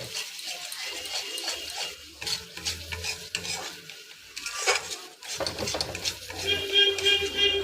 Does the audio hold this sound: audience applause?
no